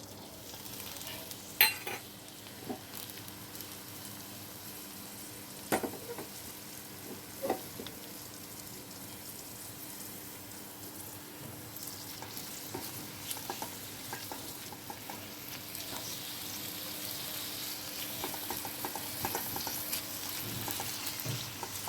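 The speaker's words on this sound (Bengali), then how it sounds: "তেলে এবার সেই পেঁয়াজগুলো ভাজবো" Onions frying in hot oil in a wok while preparing a home-style chicken curry, a steady sizzle with occasional stirring clatters and scrapes, close and moderately loud with no talking.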